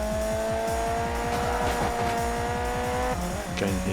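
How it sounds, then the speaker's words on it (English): Ridge Racer Unbounded video game racing: a car engine revs hard in rapid gear-shifting pulses with tire squeal, loud and continuous, without talking. "There is some crazy car smashing action."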